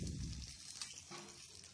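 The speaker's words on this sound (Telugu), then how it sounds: "ఇప్పుడు షిఫ్ట్ చేసుకుందాము తాలింపు మొత్తం" Hot tempering tipped into gongura dal gives a soft, low-level sizzle and bubbling hiss, steady and close, with no talking.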